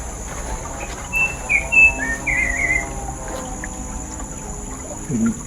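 A few short bird chirps ring out in the middle distance over a steady, quiet outdoor background hum.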